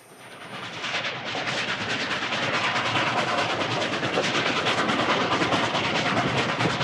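A model train runs on a large home layout with a steady, dense rattling clatter. The sound starts softly and quickly builds to a constant close roar, with no voices.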